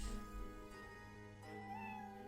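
Eve the cat meows in the Professor Layton vs Phoenix Wright game. The soft, drawn-out tonal mew sits over sustained background game music.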